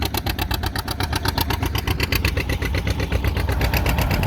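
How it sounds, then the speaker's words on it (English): A John Deere G tractor pulling a three-bottom plow at a plow day, its engine running close by with a steady, rapid, pulsing exhaust beat, loud and alone. "Another John Deere G and a 3-bottom John Deere plow."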